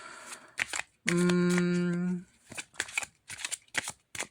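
Tarot cards from a Tarot Divinatorium deck are shuffled by hand in a series of quick, close, papery riffling bursts, with a steady humming tone sounding briefly in between.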